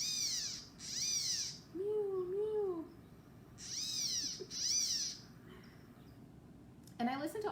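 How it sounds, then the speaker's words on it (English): Blue-gray gnatcatcher-style mewing calls, thin nasal wheezy notes resembling a kitten's mew, repeated in several short bursts with pauses between, fairly clear against a soft outdoor background, with a lower slurred call in the middle. "the gnatcatcher because I think it sounds a little bit like a kitten mewing"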